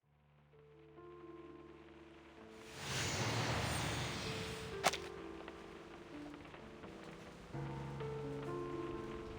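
Rain falls in the video game Reverse: 1999, a soft hiss swelling into a steady downpour over sustained musical tones, with one sharp crack partway through, no voices present.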